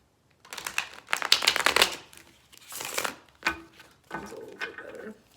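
Tarot cards are shuffled by hand at close range in several bursts of crisp riffling and flicking, separated by short pauses, with brief softer card handling between them.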